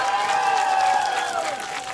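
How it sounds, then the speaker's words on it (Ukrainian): An outdoor audience at a karaoke contest on a town square applauds and cheers briefly while a voice carries over the clapping. "ваші оплески"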